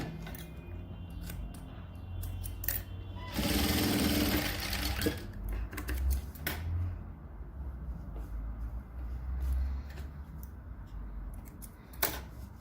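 A sewing machine stitches pink and other coloured fabric strips into patchwork for a bag, running in a loud, steady burst with quieter motor hum and handling clicks before and after, close up with no talk.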